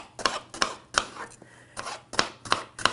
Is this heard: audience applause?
no